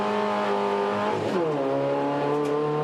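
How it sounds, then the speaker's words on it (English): Onboard a SsangYong racing series car with a Mercedes power plant, the engine revs loud and close, its steady drone dropping in pitch around a gear change and then climbing again. "It's pulling some RPM there on board with Daniel Connor"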